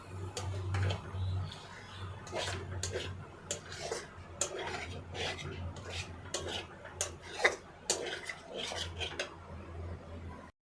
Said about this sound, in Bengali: এটা দিয়ে ভালো করে নেড়েচেড়ে নেব।